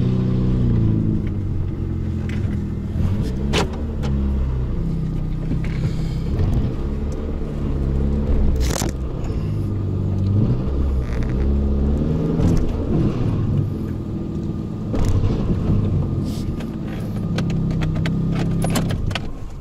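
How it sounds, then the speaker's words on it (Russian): Warmed-up engine of a VAZ 21099 car idling after starting, a steady low rumble close by with occasional small metallic clinks and slight shifts in pitch, no talk. "Так, мотор прогрет по максимуму, 90 градусов ровно."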